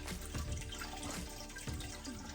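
Rosehip mead splashes and trickles quietly as it is poured into a vessel for secondary fermentation, a soft continuous liquid sound with a few gurgles.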